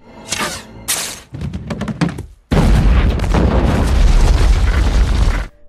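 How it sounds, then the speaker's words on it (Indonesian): A booby-trapped bomb goes off in a survival-games film: a few heavy thuds and crashes lead into a sudden loud blast that roars and rumbles continuously for about three seconds before cutting off. "Duar, meledak semua, hancur itu."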